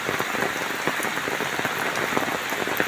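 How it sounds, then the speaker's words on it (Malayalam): Heavy monsoon rain pours nonstop over a village, a dense and steady close hiss of drops hitting the ground with no pauses and no voices. "മഴ എന്ന് പറഞ്ഞാൽ ഒരു രക്ഷയില്ലാതെ പെയ്തുകൊണ്ടിരിക്കുകയാണ്"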